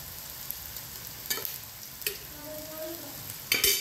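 Sautéed onion with homemade black masala sizzles in a pan at a low, close level, with a few sharp spatula clicks and a louder scrape near the end.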